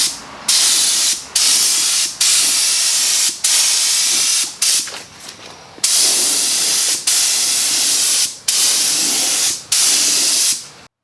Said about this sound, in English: And this is what I use for my lacquer sealer.